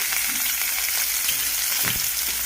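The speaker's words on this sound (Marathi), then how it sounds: "हे जे काय कट केलेले वांगे ते याच्यामध्ये थोडीशी परतून घ्यायची आहेत." Cut eggplant pieces fry in oil in a wok on low heat, a dense, even sizzle close to the ear, broken once by a brief stirring scrape near the end, with no voices.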